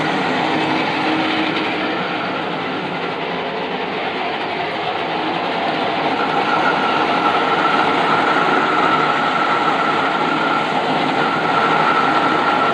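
A lathe cuts a taper, giving a loud, continuous broadband roar and hiss that holds steady throughout with no pauses.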